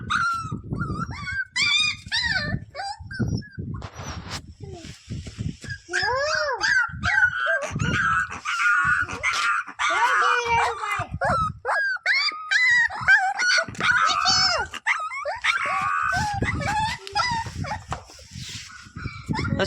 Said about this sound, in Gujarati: ગલુડિયા છે